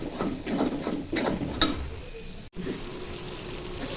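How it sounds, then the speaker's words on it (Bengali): Dried fish frying in a pan gives a close, crackling sizzle with a few spattering pops and stirring scrapes, ending in a steadier low fry. "শুটকি ভাজা ভাজা হয়ে গেছে"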